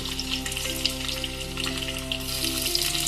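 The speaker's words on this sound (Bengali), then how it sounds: "দিয়ে পেঁয়াজ আর ক্যাপসিকামটা লাল করে ভাজবো।" Onion and capsicum fry in a pan with a continuous, even sizzle, close and moderately loud, with a steady hum underneath and no talking.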